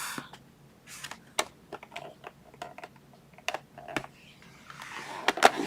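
Cardstock being scored on a paper trimmer for a coconut candy box, heard as a series of sharp clicks and taps, close and fairly quiet, with a denser scraping burst near the end.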